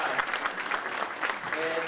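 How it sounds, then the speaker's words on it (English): Theatre audience applause at a performing arts center, a dense, steady wash of many hands clapping throughout, fairly close and full, with no pauses. "clap for yourselves, clap"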